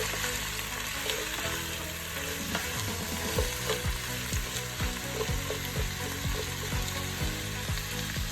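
Chopped carrots frying for Kazakh plov, a steady loud sizzle in hot oil with rhythmic scraping strokes of a spoon stirring through the pan, close and continuous without any voices.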